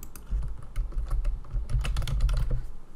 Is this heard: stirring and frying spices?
no